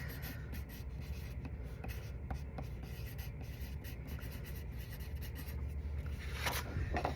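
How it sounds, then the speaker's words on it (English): A pencil writes a name on white paper with a continuous soft scratching and rubbing, close and quiet, with small strokes and short lifts throughout. "take a pencil and write our name"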